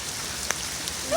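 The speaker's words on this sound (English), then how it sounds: "Josh, it's raining more." Steady hiss of heavy rainfall with a few sharp drops tapping close by, and a short burst of noise at the very end.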